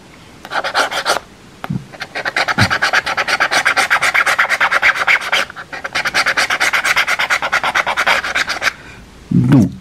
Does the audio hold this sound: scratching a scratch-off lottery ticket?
yes